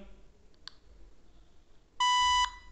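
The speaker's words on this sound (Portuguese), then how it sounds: "Deu bip aí, significa dizer que você resetou sua câmera" A Multilaser Liv SE223 Wi-Fi IP camera gives a short, loud, steady electronic beep for about half a second on being reset, after a couple of faint clicks.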